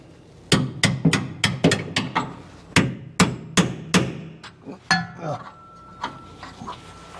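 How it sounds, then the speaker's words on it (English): A bolt is pounded through on a Chevrolet Suburban with a run of sharp, ringing metal hammer strikes in a fairly quick rhythm, followed by a few lighter taps and clinks. "Let's just go pound that bolt through."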